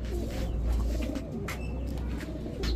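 Naptan pigeons coo softly and repeatedly at close range, a low throaty burbling with a few faint chirps and background rustle.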